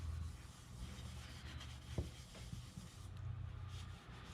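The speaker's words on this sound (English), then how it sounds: "I'm then going to use that to buff into the nickel just like I did with the steel wool" Cotton cloth buffing the nickel-plated body of a Coleman 200A-style 242C lantern, a steady close rubbing swish that runs the whole time with a faint knock partway through, and no talk.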